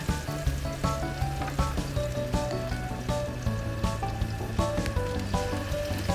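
Garlic and chopped red chili stir-fried in a wok give off a steady, close sizzle that runs the whole time beneath loud, tonal background music.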